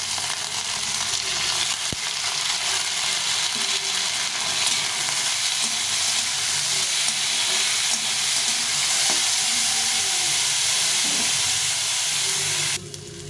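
Washed lentils fry and get stirred in a hot pan for sabudana khichdi, giving a loud, steady sizzle and hiss close by, with faint scraping underneath throughout.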